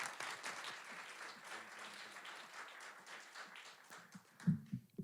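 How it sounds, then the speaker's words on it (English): Audience applause for a storyteller at a StorySLAM event, a steady wash of many hands clapping from a moderately distant crowd, fading near the end into a few louder scattered claps and thumps. "Let's give her a round of applause"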